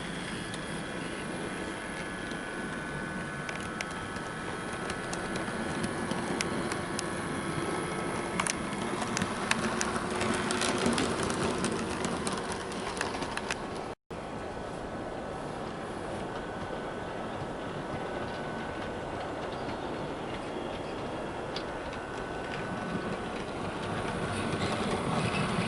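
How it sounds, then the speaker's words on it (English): A Hornby model train hauled by a Civil Engineers class 47 locomotive with a Shark ballast brake van runs around a layout, giving a steady close whirring rumble with light rhythmic clicking from the track throughout. "So now I've got a little train running around the layout, hauled by the Civil Engineers 47,"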